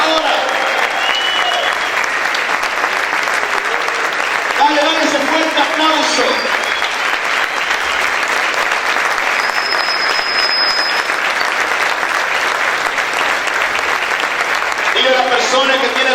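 A church congregation claps and shouts in praise during a Spanish-language worship service, sustained dense applause filling the whole stretch with scattered cheering voices and bursts of shouting, loud and continuous.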